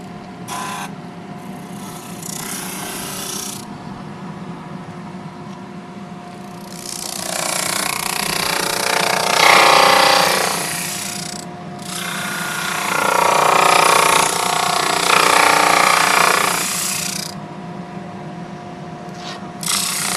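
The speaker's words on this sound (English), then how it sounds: "Drum sander is running, and it's got a belt that's going to feed the stuff through" A drum sander's constant motor hum with two long stretches of loud, raspy sanding as wood pieces for a segmented bowl feed through one at a time on a belt, separated by quieter running, plus a brief grind at the start.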